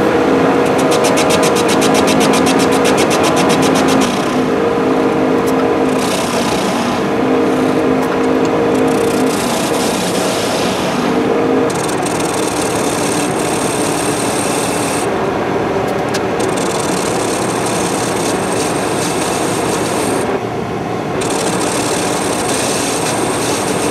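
A lathe turns a metal blank, made from a muffin, clamped in a 3-jaw chuck, a loud continuous machine whir and cutting noise that holds steady throughout, with brief dips where the cutting pauses.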